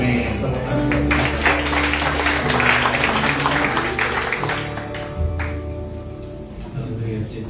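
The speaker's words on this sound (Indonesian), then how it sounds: "Tepuk tangan buat Tuhan." Church congregation clapping and cheering after a prayer, a dense, sustained wash of applause with organ or keyboard tones and voices mixed in, steady and fairly loud throughout.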